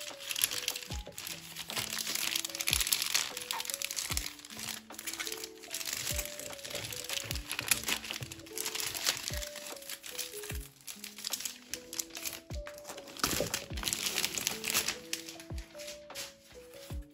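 Faint, steady crinkling and rustling of plastic packaging as K-pop albums and photocards are unwrapped close by, with small crackles and crunches throughout and a quiet melodic tune playing in the background.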